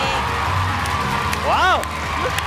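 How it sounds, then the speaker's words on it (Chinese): A television talk-show studio audience cheers and whoops as a guest walks on, crowd noise steady and close, with a bright rising shout or whistle-like whoop near the middle. "让我们掌声有请三宝老师"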